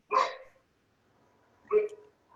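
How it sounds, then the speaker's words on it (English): A dog barks twice in the background with a pause between, moderately faint, with a third bark just beginning at the end. "We want to apologize for the dog barking in the background"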